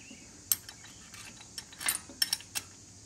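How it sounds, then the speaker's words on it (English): Wrench working a bolt loose on a Royal Enfield Himalayan motorcycle engine during a valve check, a series of faint metallic clicks and ratcheting ticks at irregular intervals, close up and fairly quiet. "let's see if I can get a wrench in on that"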